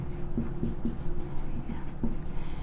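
Chalk or marker strokes on a board during a chemistry lesson, a series of short scratchy taps and squeaks in an uneven rhythm, close and clear, with no talking over them.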